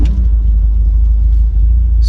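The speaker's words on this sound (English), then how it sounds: "Starts on the button. Idles absolutely beautifully." An MGB classic roadster's engine idles with a deep, steady, loud rumble, close and continuous, with no voices.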